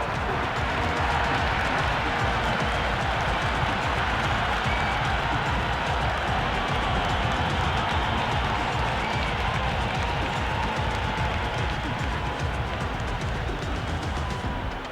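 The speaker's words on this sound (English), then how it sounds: "The crowd are loving it." A dense stadium crowd roars and cheers without a break after a six is struck in the Cricket 26 video game, a steady, loud wash of noise that holds at full strength throughout.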